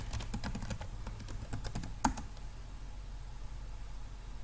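Quick run of computer keyboard key presses for about two seconds, close and crisp, ending with one sharper click, then quiet room tone.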